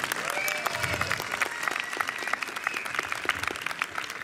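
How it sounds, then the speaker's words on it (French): Audience applause at a film festival, a steady patter of many hands clapping at moderate distance, fairly soft, with a few scattered voices and no one speaking over it. "on peut les applaudir je pense"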